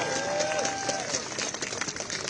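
Crowd cheering and clapping at an outdoor political rally near Royal Mint Court, a short burst of applause and shouts that fades, with a voice briefly audible over it.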